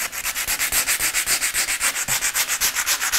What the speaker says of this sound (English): To give the area a key and to help the resin bond, I'm going to sand the area with the sandpaper